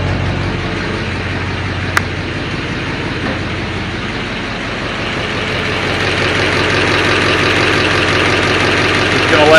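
A 1958 Plymouth Suburban two-door wagon engine idles steadily and close by, a continuous low rumble that swells slightly louder toward the end, with one sharp click near the start.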